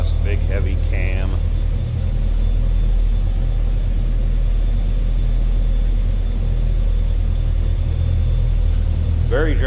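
A 1972 Chevrolet Cheyenne C10 pickup with a big heavy cam idles steadily, a deep, even rumble with a loping pulse, close by, with brief speech at the start and end.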